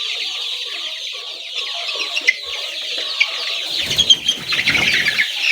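Young layer chicks cluck and peep steadily in a dense chatter, with soft bursts of wing flapping toward the end, close by.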